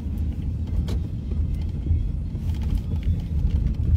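Car engine rumbling near the microphone as it moves along a road, a continuous low, bassy drone with some wind buffeting, steady and alone.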